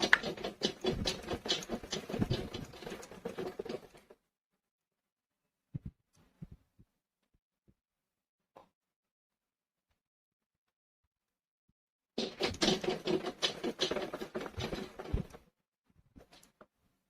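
A sewing machine top stitches a circular sleeve in two runs of steady rapid mechanical patter, each a few seconds long, with quiet handling clicks in the pause between them.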